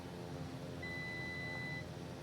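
A faint, steady electronic beep tone, a minimums alert in a Black Square Bonanza flight simulator, holds for about a second over a constant low engine drone.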